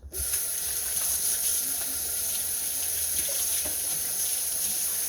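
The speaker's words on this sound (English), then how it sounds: "Give my hands a wash." Tap water runs steadily into a kitchen sink, a constant close hiss with faint splashing as hands are rinsed.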